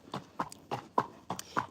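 Hooves of a mare clip-clopping at a steady walking pace, about five crisp, evenly spaced strikes close by with no other sound.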